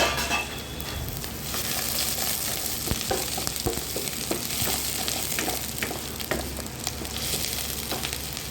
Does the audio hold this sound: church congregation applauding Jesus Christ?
no